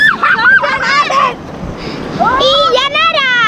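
Surf washes steadily at a beach in front of a seaside house, a constant broadband rush running under children's voices that chatter and call throughout.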